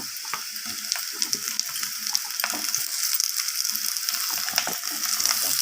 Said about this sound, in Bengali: এরপর আমি কেটে রাখা আলুগুলো দিয়ে দিলাম এতে